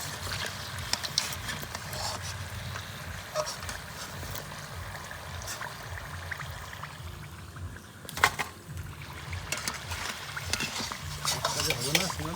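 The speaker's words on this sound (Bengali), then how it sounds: "একদম মশলাটা করে লাল লাল করে ভেজে নেবো" Spiced singara filling sizzles in a pan while a spoon stirs and scrapes it, a continuous close frying hiss broken by repeated metallic clinks and scraping.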